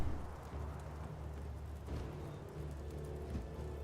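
Cleansing rain falls in the fantasy strategy game Age of Wonders 4 as a steady, soft hiss of rainfall over a low rumble. It stays continuous and even throughout, with no talking.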